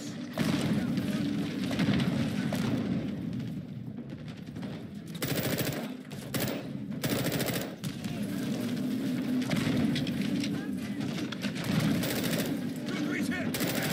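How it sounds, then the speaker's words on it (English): Grenade launches and explosions crack and thump through a night firefight in Modern Warfare II, mixed with rapid gunfire bursts and shouted voices over a dense, loud battle din. "Incoming! Take cover! They're launching grenades!"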